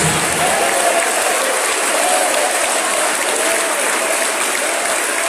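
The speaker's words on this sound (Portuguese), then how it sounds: "batam palmas e glorifiquem a Jesus" A church congregation claps hands in worship, a dense, continuous wash of applause that stays loud and even throughout, with faint voices mixed in.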